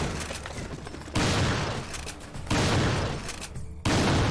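Three heavy blasts from a pump-action shotgun in Resident Evil 4, each a loud, sharp boom, spaced over a few seconds with rumbling tails between shots.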